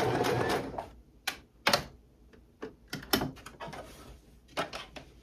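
A sewing machine stitches fabric in short bursts, quick clattering runs of stitches separated by pauses and clicks as the fabric is turned, close up with no talking.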